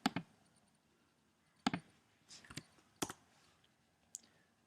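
Computer mouse clicks while saving an image file, a handful of short sharp taps spaced irregularly, close and quiet in a silent room.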